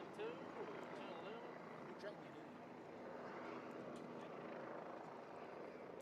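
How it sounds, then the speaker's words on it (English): Helicopter hovering above an outdoor high school track and field meet, a steady distant rotor whir and rumble in the background, faint, with someone talking over it. "As we do have a helicopter above us."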